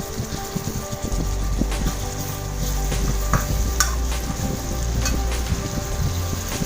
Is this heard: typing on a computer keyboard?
no